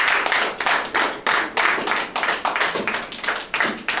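A church congregation claps in a steady, rhythmic beat, with loud, close hand claps repeating evenly all the way through and no voices over them.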